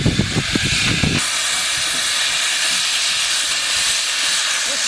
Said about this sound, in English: This is the valve beginning to lift.